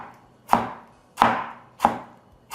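Three sharp knife chops through tomato onto a cutting board, evenly spaced about two-thirds of a second apart, close and clear with nothing else around them.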